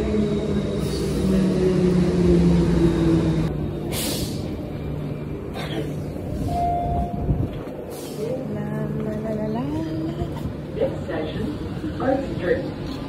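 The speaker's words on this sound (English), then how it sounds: "Ayan na ang train papuntang city." A train pulling into a station, with a low rumbling drone, a hiss of brakes and tonal squeals as it slows, while people talk nearby.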